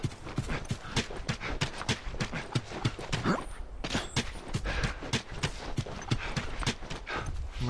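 Horses trotting in The Last of Us, a steady run of clip-clop hoofbeats at moderate volume, fairly close, with no talking.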